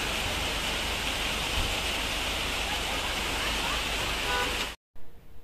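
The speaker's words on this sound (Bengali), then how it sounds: "বেলা বাড়তে ঝর্ণার স্পিডটা বেড়ে গেল" Loud, constant rush of a waterfall in the Darjeeling rock garden, running strong and close. The roar cuts out sharply near the end, followed by a few muffled thumps.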